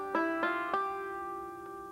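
A five-string banjo plays the opening of a melodic variation that begins with a first-finger slide, three quick plucked attacks ringing bright and close, then a softer note fading out alone.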